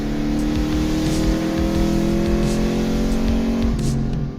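An Italian Alfa Romeo Montreal with its race-bred V8 runs loud and close, holding a steady, throaty engine note with a slight rise in pitch near the end.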